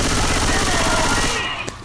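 Rapid automatic gunfire from the video game Left 4 Dead 2, a dense, loud burst of continuous shots that cuts off abruptly near the end.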